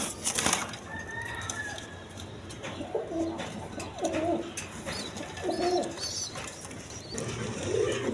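Silver pigeons at a pigeon farm coo in a few soft, rolling calls near at hand, set against a quiet, busy background with faint wing and cage noises and no speech.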